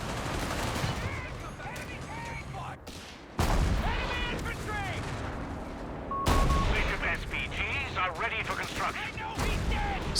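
Rapid artillery barrage fire in the Company of Heroes 3 strategy game, dense overlapping booms and shell impacts over a 4v4 battle, loud and continuous with a couple of abrupt cuts between bursts.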